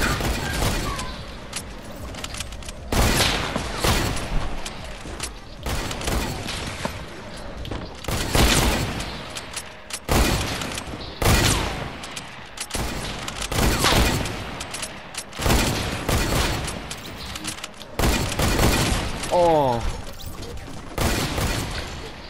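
Repeated bursts of gunfire in the Fortnite video game crackle loud and close in irregular volleys across the whole stretch, with mechanical clatter and short sweeping effects between shots.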